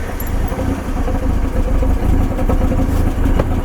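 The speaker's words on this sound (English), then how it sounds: "it's now running at a lot less revs and it's fluctuating again" Mazda Miata engine idling with uneven, rising and falling revs, a steady close rumble with light mechanical clatter.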